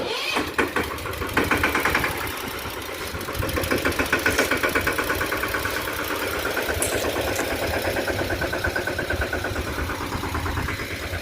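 A Mahindra Yuvraj 215 tractor engine idles close by on a farm, giving a loud, rough, rapidly knocking chug with a steady pulse. It holds throughout, with a brief uneven stretch near the start.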